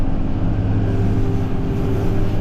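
A tractor cutting a fire break along a fence line, stirring up a cloud of dust, gives a steady low engine drone with a constant hum and no voices, loud and close throughout.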